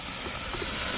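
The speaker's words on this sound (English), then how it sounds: "We're just trying to sear." Meat sears on a hot grill for cheesesteak wraps, a steady broad sizzling hiss heard close and continuous without talk.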